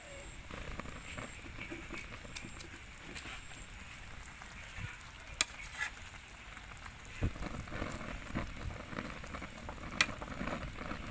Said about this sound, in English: So now it's the time to add our tamarind leaf.